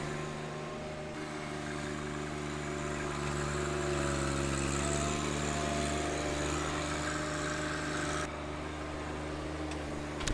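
A John Deere 1025R compact tractor pulling out a fence and tearing up brush, its engine droning steadily and fairly faint at a distance, with slight rises in load and no talking.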